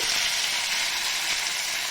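Batter frying in hot oil in a frying pan, a dense, even hiss of sizzling that holds steady and close for the whole moment, no voices.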